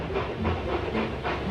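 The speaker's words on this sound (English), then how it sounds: "James and Edward puffed into the yard." Toy steam engines puff into a rail yard with rhythmic bursts of hissing steam, about three or four chuffs in quick succession, close and steady.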